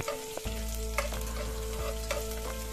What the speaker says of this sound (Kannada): ಇದು ಚೆನ್ನಾಗಿ ಫ್ರೈ ಆಗಲಿ, ಕಲರ್ ಚೇಂಜ್ ಆಗಬೇಕು ಅದೇ ತನಕ ಫ್ರೈ ಆಗಲಿ